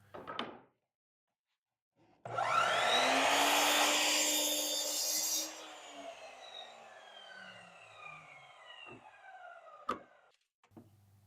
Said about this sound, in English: So again, we just cut our 2 14-inch boards.